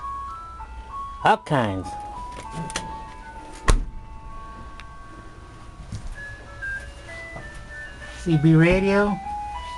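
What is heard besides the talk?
ice cream truck music box playing songs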